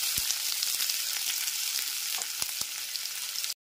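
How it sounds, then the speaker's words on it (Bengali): Chopped onions frying in hot white oil in a kadai, a dense, steady sizzle with small crackles and pops running throughout. "এরপর এর মধ্যে কুচনো পেঁয়াজটাকে দিয়ে দিচ্ছি।"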